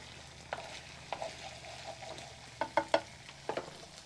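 A spoon stirs beaten eggs, seasoned with a little salt, into cooked squash in a pan over a field cooking fire, giving soft scraping and a faint sizzle with several distinct clinks against the pan, near and fairly quiet.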